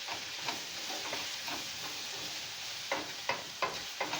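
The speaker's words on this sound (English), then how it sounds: "we're going to go ahead and give a stir." Buffalo cauliflower sizzles softly in a pan, and a utensil stirs it in several distinct scraping strokes. The sound is close and there is no talking.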